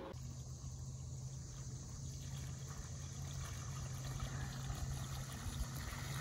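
Trolling motor running steadily on a Beavertail Phantom boat, a low continuous hum with a faint whine above it and water noise around it, moderately close with no talking.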